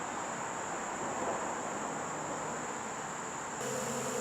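A swarm of bees buzzes through a backyard, drawn to honey scent near stored hive supers, a dense continuous droning hum that stays loud and steady with no voices.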